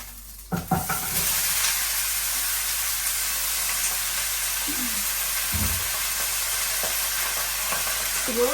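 Vegetables frying in a pan sizzle steadily and fairly close, starting with a clatter as they go in, followed by occasional soft knocks of stirring.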